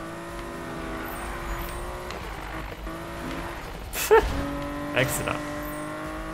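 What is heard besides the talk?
car drifting in the video game Need for Speed 2015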